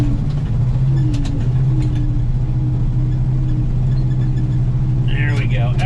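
Overloaded grain truck hauling beans pulls away on a cold morning, its engine a loud, steady low drone as it strains under load, with someone talking over it.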